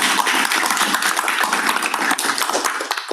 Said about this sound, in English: if you would just give her a round of applause